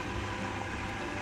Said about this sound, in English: The noise you hear right now is the pump.